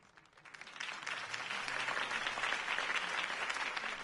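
Video game crowd applause in a Batman-themed city campaign rally for Harvey Dent, a dense wash of clapping that swells up within the first second and holds steady, fairly quiet, with no voices over it.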